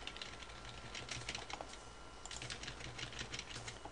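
Computer keyboard keys are pressed quickly and repeatedly to steer the mouse cursor in RuneScape, producing soft, close clicking and tapping in uneven bursts over a faint low hum, with no talk.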